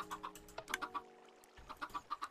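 Chickens in the Minecraft game, with soft, rhythmic clucks repeating over a faint tapping of keys and a low background hum.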